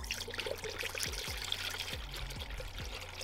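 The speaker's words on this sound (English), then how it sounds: "Now we just have to fill it up with coolant" Coolant is poured into the cooling system of a turbocharged Honda Integra with a tucked radiator. It makes a close, gurgling trickle with repeated glugging pulses over a few seconds, and no voices are heard.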